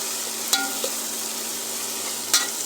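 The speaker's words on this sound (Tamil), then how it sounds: "வெங்காயம் நல்லா வதங்கிருச்சு நண்பர்களே" Onions sauté in a pan for vegetable kuzhambu, giving a soft, continuous sizzle with two brief stirring clinks, and no talk.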